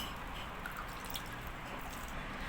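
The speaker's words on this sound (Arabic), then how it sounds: "ونحط بقى على البرطمانات بتاعتنا ميه مغليه ومتبرده" Boiled, cooled water poured into glass jars for pickling olives gives a steady, soft trickling and dripping, close and fairly quiet, with no talk.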